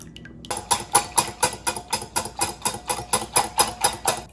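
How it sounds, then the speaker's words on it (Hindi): An egg and a cup of milk being beaten together in a bowl, a brisk rhythmic clatter of whisking strokes, about four per second, close and loud after a quiet start. "बहुत अच्छी तरह से आप मेक श्योर करें कि अंडा और दूध मिक्स हो चुका है"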